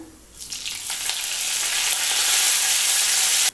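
Curry leaves hit hot oil in a kadai and burst into a sharp, rising crackle that swells into a loud, continuous sizzle, with no talking.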